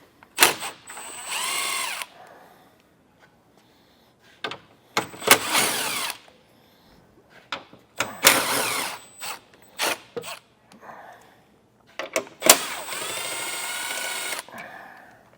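A power drill takes 10mm bolts out of the front fascia of a 2025 Chevrolet. It whirs in several loud, close bursts of one to two seconds each, separated by pauses and small clicks and clunks.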